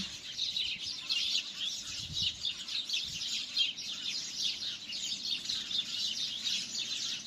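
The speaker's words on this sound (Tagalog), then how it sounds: "Hahanapin natin ang mga ibon sa puno na ito. iba-ibang klaseng kanta." Birds in a tree sing and chirp steadily, a dense layer of high calls from several voices that continues throughout, with a faint brief thump near the start.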